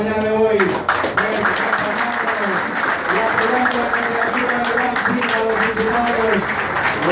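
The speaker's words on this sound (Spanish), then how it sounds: "Yo quiero que por favor le demos un aplauso" Applause from an audience at an agricultural farmers' front meeting, clapping mixed with loud cheering voices and shouts throughout, fairly close and energetic.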